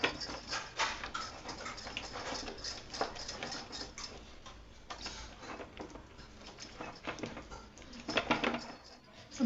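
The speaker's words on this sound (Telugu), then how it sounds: "దీన్ని శుభ్రం కలుపుకోవాలి" Lentil batter being mixed with salt and baking soda in a bowl, a quiet steady run of soft ticking and tapping strokes of a spoon against the vessel, repeating in quick rhythm.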